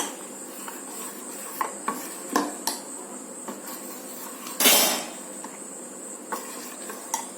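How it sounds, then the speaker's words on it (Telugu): A ladle stirs dosa batter by hand in a metal vessel, making repeated light scraping clicks and one louder sloshing scrape midway, close by and with no talk. "కాబట్టి నేను గెంటితోనే కలిపేస్తున్నా."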